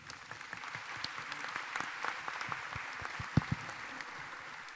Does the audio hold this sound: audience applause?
yes